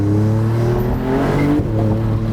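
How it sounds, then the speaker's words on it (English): A Maserati MCPura in Corsa mode surges hard under full throttle, its engine note climbing loud and close while the tyres scrabble for grip, with no talking over it. "you put your foot down with Corsa engaged and the thing really scrabbles for grip"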